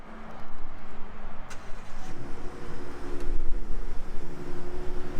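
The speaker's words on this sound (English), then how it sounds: "Do a little cold start here." A 2024 Ford F-150 Raptor 37 pickup truck engine cold-starts, settling into a loud, steady rumbling idle with a deep exhaust drone throughout.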